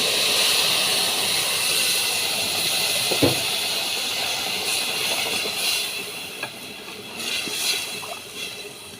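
Water hits rice grains already fried for pulao, giving a loud, steady hiss of steam and bubbling that fills the whole stretch, with a few faint clinks. No voices.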